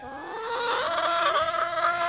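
A rooster on a homestead clucks and crows in a drawn-out, harmonic call that rises and holds, close and clear over quiet surroundings, with no talk.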